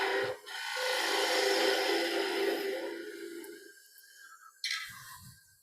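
Spindle gouge taking a few shallow cuts into wood while turning a candlestick on a lathe, a steady close scraping rasp for several seconds that fades, then a brief knock.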